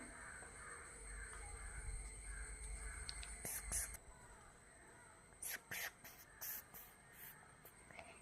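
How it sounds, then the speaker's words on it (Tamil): Hand wash is sprayed in several short, crisp bursts up close, spaced over a few seconds against a quiet room with faint background sounds. "இந்த மாதிரி ஸ்ப்ரே பண்ணிவிட்டு இது இங்கே வச்சிடலாம்."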